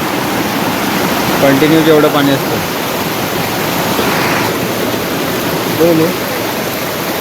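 A strong stream rushes at night in a loud, steady wash of flowing water, while brief voices talk over it.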